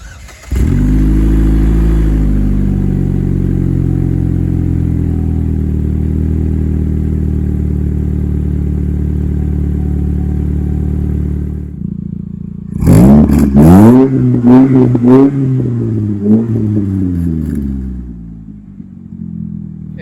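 Pontiac Solstice engine running on a jump pack after sitting on a trailer, a loud steady low idle for about eleven seconds, then cutting off and firing again with several sharp revs rising and falling before settling.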